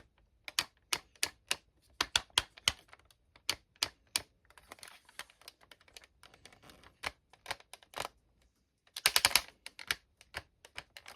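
A Transformers War For Cybertron Siege Omega Supreme toy is lifted and its ratchet joints click crisply, in rapid irregular bursts. The clicks sound close and dry, with no voices heard.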